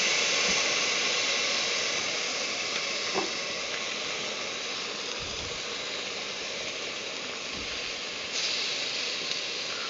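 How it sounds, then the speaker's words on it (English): Onions and garlic sauté in a pan with a loud, continuous sizzling hiss that fills the whole stretch. Only a few faint clinks and thumps sit beneath it, and no one speaks. "Okay, I got the onions pretty well sauteed. Put a scoop of garlic in there."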